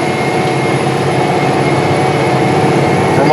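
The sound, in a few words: 620 hp John Deere 9620R tractor engine while seeding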